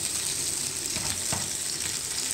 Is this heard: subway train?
no